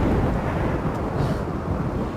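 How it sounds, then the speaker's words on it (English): Heavy thunderstorm in the video game Rimworld, a loud continuous rumble of rain and low thunder with a faint roll midway, no voices. "This thunderstorm is really loud."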